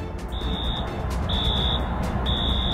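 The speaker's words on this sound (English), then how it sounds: "That's the alarm that has been going off since around 1 o'clock in the morning." Alarm sounding at a Century 16 movie theater, a shrill electronic tone beeping in three evenly spaced pulses over a steady wash of background noise, heard from a distance with no talk.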